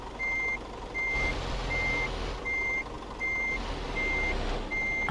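A truck's reversal alarm in Euro Truck Simulator 2 gives evenly spaced, steady beeps, about seven of them, over a low engine hum, with no speech.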